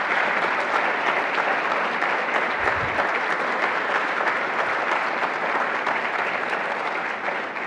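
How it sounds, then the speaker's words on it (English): An evening faith gathering audience in Maine claps steadily and fairly loudly for the speakers, a dense sustained applause with no voices standing out. "another round of applause for everyone who has spoken so far this evening"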